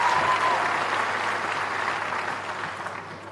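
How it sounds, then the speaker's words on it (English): Convocation ceremony audience applauding guardians and parents: a broad, sustained round of clapping from a large crowd that gradually fades out. "A round of applause for our guardians and parents"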